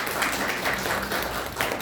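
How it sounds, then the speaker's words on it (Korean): Church congregation applauding to welcome three new members, a brief burst of dense, fairly soft clapping from a crowd, with no talk over it. "박수로 환영합니다"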